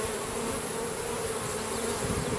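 Nurse honey bees held in a sample container give off a steady, close, dense buzz that continues without a break.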